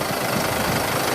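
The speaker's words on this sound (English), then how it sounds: "This engine is running, so we can't check it." A Mercedes Vito engine idles steadily, a close, continuous rumbling drone with no talk over it.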